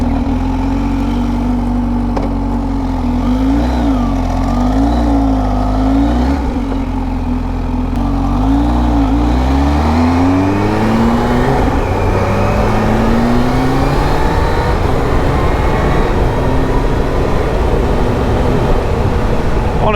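A supercharged motorcycle starts and pulls away on a gloomy country road, its engine idling with a wavering pitch before revving and accelerating into a loud, rising roar that fills the close-up recording with no voices.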